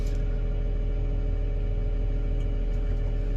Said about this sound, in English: Pardon the fan, it's a little bit loud in here